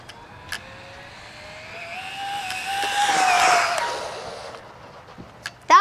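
An Arrma Typhon Grom brushless RC car zips past on a dirt run, its high electric whine rising steadily to a loud peak near the middle, then fading away as it recedes.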